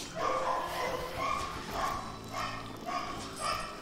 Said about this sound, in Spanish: mi perro en realidad no es que esté pasándole algo malo, sino que simplemente es bastante quejumbroso